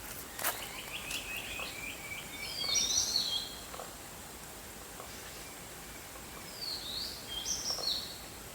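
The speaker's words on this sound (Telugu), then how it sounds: "సౌండ్ వినండి, పక్షుల సౌండ్ వినండి." Birds call in a lush green forest after rain, with two faint, distant bursts of chirping over a soft, hissy outdoor background.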